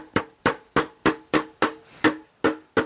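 A hammer strikes a hard plastic construction safety helmet again and again, about nine sharp, evenly spaced knocks at close range, each with a short ringing decay, with no speech.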